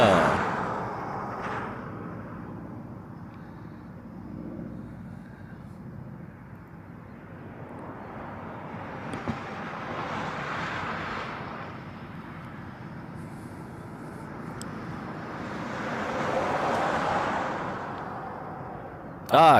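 A KC-135 military tanker passes over Honolulu, its engine rumble swelling, fading, then building again at a moderate distance while a person talks over the noise.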